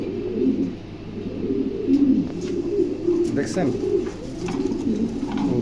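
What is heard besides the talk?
pigeons cooing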